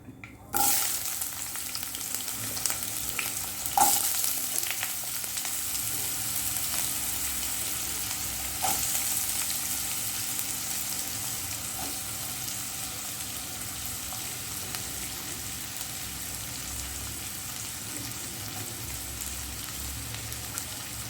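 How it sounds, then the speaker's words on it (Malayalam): Chopped onion frying in hot oil with popped mustard seeds for an egg puff filling gives a loud, continuous sizzle, with a sharp burst as the onion goes in and occasional stirring scrapes, close and without talk. "നമ്മളെ കടുക് പൊട്ടിയിട്ടുണ്ട്. അപ്പോൾ അതിനകത്തോട്ട് നമുക്ക് ഉള്ളി ഇട്ട് കൊടുക്കാം."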